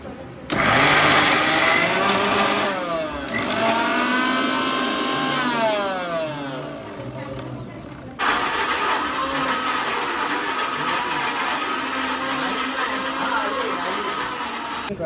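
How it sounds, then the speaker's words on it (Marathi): A loud mixer grinder blending coconut with water whirs steadily, its motor pitch shifting as it churns, then cuts and restarts at full speed for the rest of the clip. "पाणी टाकून त्याला मग मिक्सरला लावायचं आहे आपल्याला ते"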